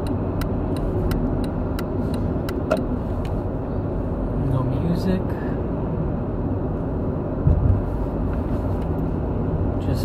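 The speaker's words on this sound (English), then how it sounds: "Just focusing on the cars." Cars pass on a road in Newark with a steady, moderate traffic drone, a few rhythmic ticks at the start and a brief louder passing near the end, with a voice speaking briefly over it.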